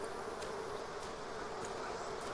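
Steady insect buzz of a bee in the medieval building game The Pillars of the Earth, a continuous drone holding level and close throughout with faint higher streaks, no talk over it.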